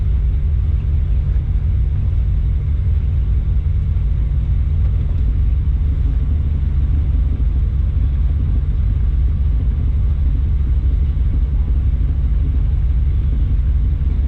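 Steady, loud low rumble of engines at a drag strip at night, a continuous roar with no breaks and no voices.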